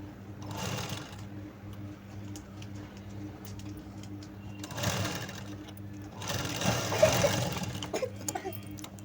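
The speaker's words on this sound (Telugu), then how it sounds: "ఈ విధంగా క్లాత్ అనేది ఫోల్డింగ్ లేకోకుండా నీట్గా బయటికి తీసుకొని పైకుట్టు అయితే వేయండి ఇలా" A sewing machine runs in bursts while top-stitching the neckline of a long frock, its rapid needle chatter starting and stopping with quieter gaps between runs.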